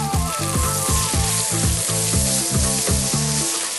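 Ground coriander, chili powder, garam masala and salt frying in a pan while being stirred give off a steady, close sizzle, with regular rhythmic pulses running underneath throughout.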